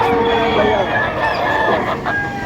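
Rooster crowing and hens clucking amid the bustle of a budget chicken market in Padre Garcia, Batangas, a dense close chorus of birds with talk in the background.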